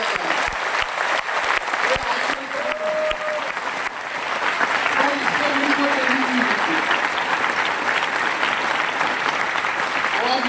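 An auditorium audience in New Delhi breaks into sustained applause, loud and dense clapping that swells after a few seconds and keeps going, with a voice heard briefly near the start.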